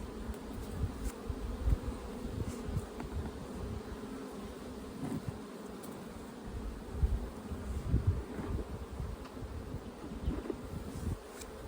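Honeybees humming around a thinly populated hive in a bee yard: a low, steady buzzing of insects nearby, faint and continuous, with small bumps from handling throughout.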